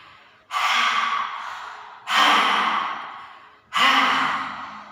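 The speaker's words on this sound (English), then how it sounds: "So we exhale all out of the mouth." Three forceful breaths pushed out of the mouth in kriya yoga breathing, each a sudden loud whoosh that fades slowly, spaced about a second and a half apart, close and clear with no talking.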